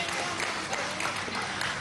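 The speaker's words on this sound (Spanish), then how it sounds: "Un aplauso al profe." Crowd at a Venezuelan government bus-handover ceremony applauds a teacher, a dense, even wash of many hands clapping at once, steady and fairly distant, with no distinct voices rising above it.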